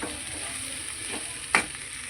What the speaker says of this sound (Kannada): ಆನಂತರ ಇದನ್ನು 3ರಿಂದ 4 ನಿಮಿಷ ಈ ಥರ ಕೈಯಾಡಬೇಕು